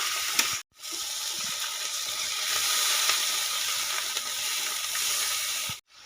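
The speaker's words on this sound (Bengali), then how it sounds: "মশলাটা আমার খুব ভালো করে কষিয়ে নিয়েছি। এবার দিয়ে দেব জল।" Water pours into a pan of sizzling, oil-fried spice paste for a silver carp fish curry, giving a steady loud hiss and gush that runs for several seconds with brief gaps at start and end.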